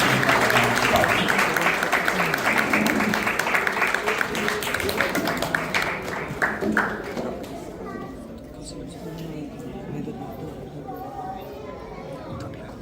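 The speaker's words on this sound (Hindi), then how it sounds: "मैं पंडित जी को इनवाइट करता हूँ मंच पर, जोरदार तालियों के साथ" Lively applause welcomes Pandit ji onto the stage at a podcast session, with strong close clapping for about seven seconds, then fading into quieter room murmur and voices talking.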